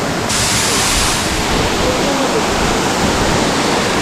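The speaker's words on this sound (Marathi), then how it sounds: "पाणी डायरेक्ट वरून खाली उडतंय" Waterfall in Bhimashankar forest, water pouring straight down from a height, a loud, steady, dense roar of crashing water filling the whole clip without pause.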